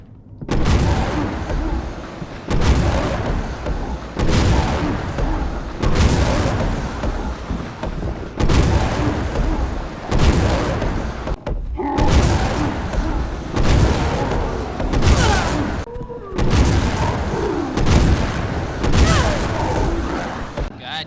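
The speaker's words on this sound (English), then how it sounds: "Took 12 acid rounds to take down the Whopper" Acid rounds fired at a Whopper enemy in Resident Evil 6, heard as a string of heavy, booming shots spaced a second or two apart, each one loud and close with a brief rumbling tail.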